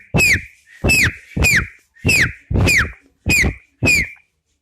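A boy imitates a parrot by whistling: seven short, sharp, chirping whistle bursts in an even rhythm, close and loud with silence between them.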